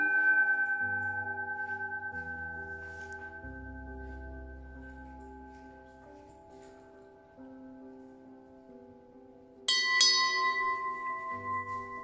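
Bell in a rural museum ringing out with a long, clear metallic decay, followed by a second brighter strike near the end, alone and fairly close in a quiet room.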